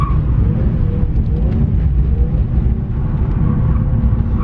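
A car's engine roars loud and close on a short drift run-up, a dense continuous drone with rising and falling tone as the driver works through first and second gear.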